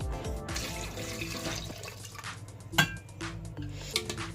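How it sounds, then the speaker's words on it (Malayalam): A cup of water is poured into a pan of dal curry with tomato and onion, giving a short, faint splashing pour with a light clink of utensils. "ഇതിൻ്റെ അകത്തോട്ട് 1 കപ്പ് വെള്ളവും കൂടെ ആഡ് ചെയ്ത് കൊടുക്കുക"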